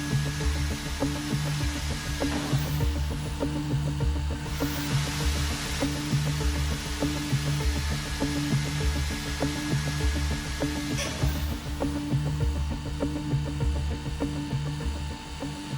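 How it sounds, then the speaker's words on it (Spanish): An electric drill bores holes into a piece of iron, powered by a generator, giving a steady, loud motor whine with a strong buzzing drone that holds constant throughout, with brief changes in load as the bit cuts. "vamos a perforar un par de agujeros en esta pieza de hierro"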